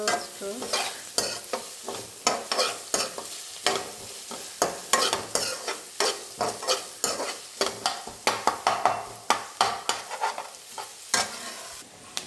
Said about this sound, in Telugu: బాగా వేగనివ్వాలి.